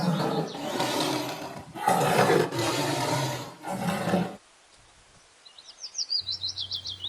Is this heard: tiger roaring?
yes